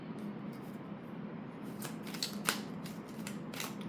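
A deck of tarot cards being shuffled by hand: a soft, steady papery riffle broken by a few sharper flicks near the middle, close and fairly quiet, with no talking.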